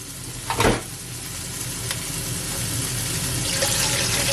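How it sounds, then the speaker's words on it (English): Water from a kettle pours into a pot of sautéed pork for Jamaican brown stew, a steady sizzling hiss rising as the liquid hits the hot pan, with a brief clatter near the start. "I'm gonna add some water from my kettle."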